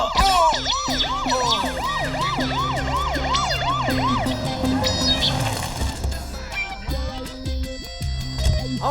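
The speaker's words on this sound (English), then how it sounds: "Can you hear the sirens? The police." Police sirens wailing loud and close in a fast repeating rise-and-fall pattern, several overlapping, with traffic rumble beneath and no talk.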